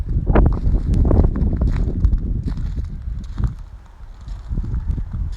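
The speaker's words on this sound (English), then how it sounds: "it's a really windy day today, so I'll talk a little bit less when the wind picks up" Gusty wind buffets the microphone in heavy low rumbling bursts, rising and easing over a few seconds.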